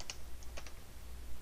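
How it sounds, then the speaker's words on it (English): Soft clicking of a computer keyboard as a short word is typed, a handful of quick, light keystrokes close by in a quiet room. "I'm going to type in crate"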